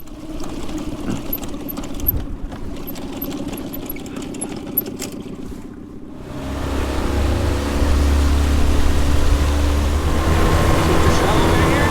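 A skiff's outboard motor on choppy water first idles faintly under talk and clinks. It then surges into a louder, steady low drone of running engine and hull noise, with voices over it.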